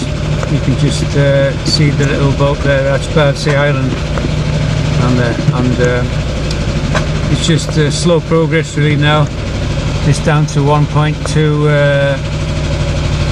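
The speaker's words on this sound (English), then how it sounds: "Sorry about the engine noise." Outboard motor of a sailing boat running steadily near Bardsey Island at slow speed on a spring tide, a continuous low droning hum close by under almost constant talking from a man aboard.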